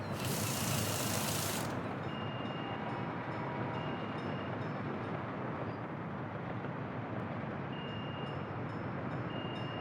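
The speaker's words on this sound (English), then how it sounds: "Guess we've got so many trains on this line here." Several trains running along a busy rail line in the Workers & Resources city-building game, a steady dense rumble of rolling rail traffic with faint mechanical clicks, continuous and fairly close, with a brief brighter hiss at the start.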